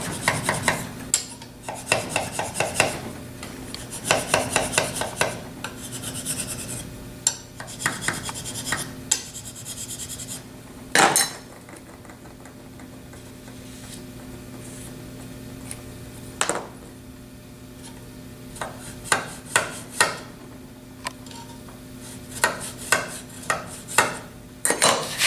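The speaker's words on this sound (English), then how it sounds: "So we take a few scratches, draw filing, and we're using different areas of the file frequently" Hand file draw-filing a metal Kingston drill gauge, giving repeated rasping scratch strokes in bursts with short pauses between, close and fairly loud, with occasional metallic clinks.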